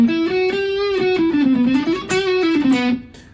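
Heavily distorted electric guitar played through a built-in speaker, a sustained melodic line, loud and saturated with a thick buzzing tone, fading out at the end.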